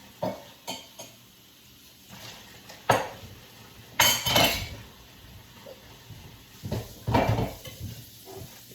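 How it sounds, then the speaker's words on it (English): Dishes and cutlery clink and knock in scattered bursts, with water running faintly in between as someone washes up nearby. "you're cleaning up every single dish you have in the entire house"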